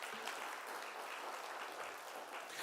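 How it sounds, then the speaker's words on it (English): An audience at a conference session applauds a panel, a steady wash of clapping filling the space for a couple of seconds, fairly distant and even. "a round of applause for our panel"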